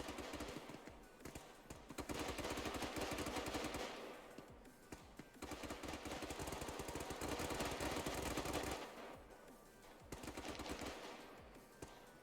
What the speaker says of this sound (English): that's what it sounds like when almost 42 people shoot